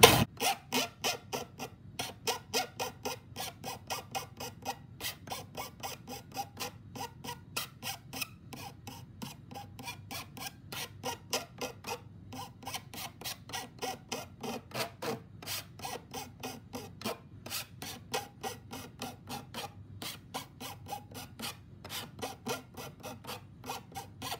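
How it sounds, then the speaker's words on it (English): Metal file stroked up and down to round the sharp corner of an intaglio printing plate: rapid, even rasping strokes repeating steadily throughout, close by and moderately loud, with no talking. "I'm gonna turn the file straight up and down and kind of sand or file down that sharp corner"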